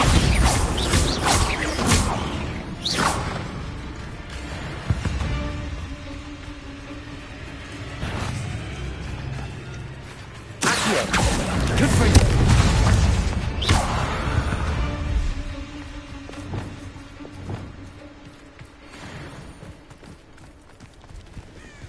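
Spell blasts from the Bombarda explosion charm in the video game Hogwarts Legacy, with loud repeated bursts and crashes amid busy combat effects, a heavy boom near the middle.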